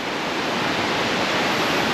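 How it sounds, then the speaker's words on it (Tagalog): Shannon Falls in Whistler, BC roars as a steady, loud wash of falling water, a broad continuous rush with no breaks. "Ang ganda ng falls"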